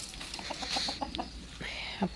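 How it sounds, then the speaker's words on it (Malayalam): The neighbour's chickens cluck in a run of short clucks at close range, and a rooster-like call rises near the end against a noisy farmyard background. "അപ്പുറത്തുള്ള കോഴികൾ ഭയങ്കര ശല്യമാണ്."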